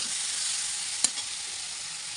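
Salted tomatoes frying in a pan, with a steady bright sizzle throughout and a single short clack of a spoon stirring partway through.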